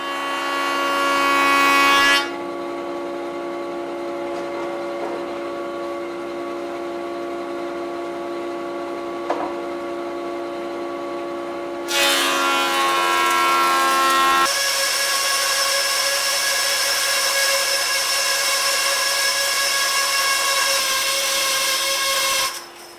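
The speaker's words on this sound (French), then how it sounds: "Entre chaque passage à la scie à ruban, je repasse sur la dégauchisseuse." A woodworking jointer planes wooden boards in a home workshop, between band saw passes. It gives a loud, steady machine whine with tonal hum, then a harsher broadband roar of cutting that runs for several seconds before stopping abruptly.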